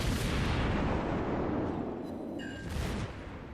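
Naval artillery booming continuously in the World of Warships game, a dense rumbling barrage of cannon fire with a brief sharper burst near the end, loud and sustained without talk.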